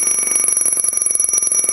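A loud, rapid electronic low air alarm from an MSA G1 breathing apparatus, signaling a one-third-full bottle, pulses rapidly and continuously, a shrill warning tone filling the whole clip.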